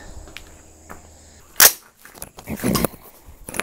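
A single sharp 6.5 Grendel rifle shot firing 123-grain ammunition cracks out partway through, fairly distant and brief, with quiet outdoor ambience before and after.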